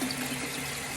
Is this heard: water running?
yes